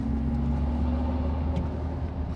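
A Mercedes EQS 580 electric car emits a steady low synthetic hum with tonal drones, a continuous futuristic whir that stays loud and even throughout, with no talk.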